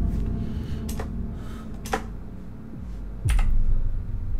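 A chunky mechanical keyboard clicks during a Nethack game, with a handful of sharp, close keystrokes spaced irregularly over a low background rumble.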